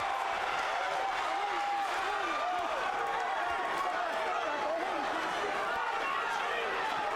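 A boxing crowd on its feet roars with cheering and scattered applause, a dense continuous wash of voices, while a commentator talks over it.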